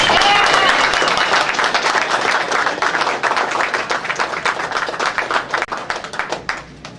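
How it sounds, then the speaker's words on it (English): Audience at an awards ceremony claps and applauds, a dense burst of many hands that starts loud and gradually thins into scattered claps toward the end. "please give him a big round of applause"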